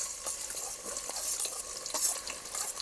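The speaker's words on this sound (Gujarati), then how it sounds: "ડુંગળી કટિંગ કરી હતી એ આપણે નાખી દઈશું। તેલ તો ગરમ થયેલું છે।" Chopped onions hit hot oil in an outdoor village-style kitchen, giving a soft, steady sizzle with faint scraping of stirring, quiet and alone without voices.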